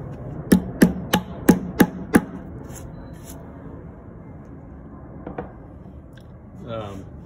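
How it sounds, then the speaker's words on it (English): A hammer taps a cover cap into a Festool Domino 500 connector hole: six sharp, evenly spaced knocks in quick succession, close and crisp, followed by quieter handling sounds and a brief rub. "And then you could just tap that down with the hammer."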